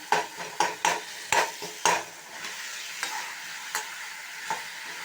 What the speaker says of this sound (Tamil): காயெல்லாம் ஒன்றா சேர்த்து கொஞ்சம் நேரம் வதக்கிடுங்க